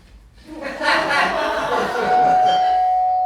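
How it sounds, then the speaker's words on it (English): A doorbell chimes with a sustained ringing tone while people laugh and chatter over it. "Oh, doorbell."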